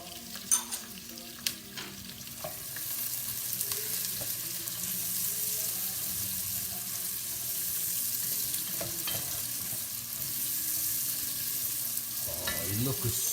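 Hot pepper frying in oil gives a continuous bright sizzle after a few sharp clanks of a utensil against the pan at the start, with occasional stirring knocks.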